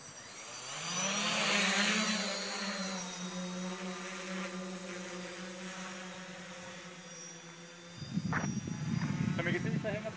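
A small drone takes off and climbs about 20 metres during a failsafe test, its steady motor buzz rising in pitch at lift-off and then holding level. A louder rough burst of noise cuts in near the end.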